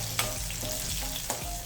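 Dried red chillies frying in oil in a pan for coconut chutney, a close, steady hiss and crackle of sizzling with a couple of sharp clinks of a utensil stirring, no voices.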